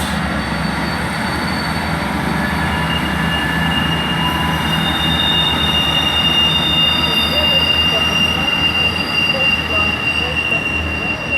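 Train pulling out of Bristol Temple Meads station, with a steady loud rumble of wheels and engine and high-pitched wheel squeal holding through the whole stretch.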